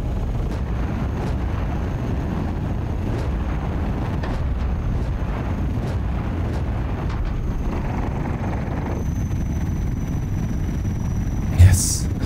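An ornithopter in Microsoft Flight Simulator flying over a mountain peak gives a steady, loud, rumbling engine drone that stays constant throughout, with a brief sharp click near the end.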